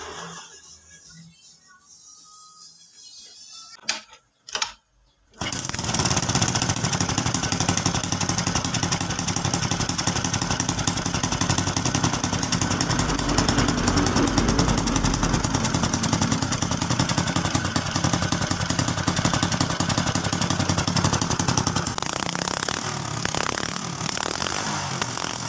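A Honda motorcycle is started after a few soft clicks, then its engine catches and runs loudly and steadily at close range without pause.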